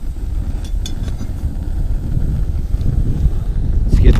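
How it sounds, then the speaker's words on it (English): Gusty wind buffets a tiny ultralight backpacking gas stove outdoors, a loud low rumbling roar across the microphone with a few faint clicks and a brief swell at the end. "struggling in the wind."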